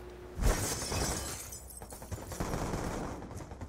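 A sniper rifle fires in the Black Ops 2 shooter game, one loud sharp crack with a ringing tail, followed by scattered clattering gunfire and game noise.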